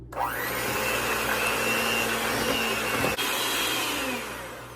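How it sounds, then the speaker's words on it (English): An electric hand mixer whirs steadily and loudly while beating eight cracked eggs in a bowl for muffin batter, its motor holding a constant whine with a brief catch near the end before running on and fading slightly. "8 eggs are cracked into here. We're gonna go ahead and mix that up"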